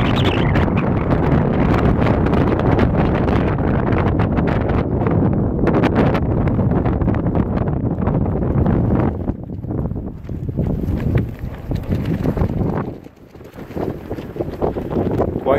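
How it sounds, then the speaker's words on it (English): Strong wind roars and buffets the microphone continuously, with loud gusting rumble throughout and a brief lull near the end. "Quite windy."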